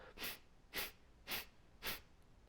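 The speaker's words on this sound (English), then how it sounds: "breath of fire. So this is when you will exhale sharply out your nose and the inhale is relaxed" Four sharp, forceful nasal exhales in steady rhythm, part of breath of fire yoga breathing, each a short broadband puff close to the ear, separated by quiet relaxed inhales.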